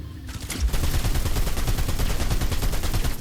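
Rapid automatic gunfire from the video game Fortnite during a ranked match, loud and sustained, with dense evenly spaced shots after a brief quieter start.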